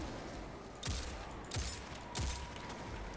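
A sniper rifle fires three spaced shots in the Destiny game, each a sharp crack with a booming low tail over steady background game ambience.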